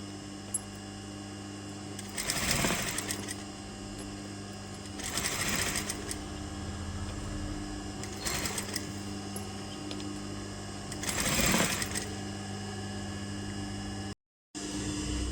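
A sewing machine stitches frills onto a girl's long frock in short rattling bursts, four close runs of rapid needle clatter separated by pauses filled with low background hum.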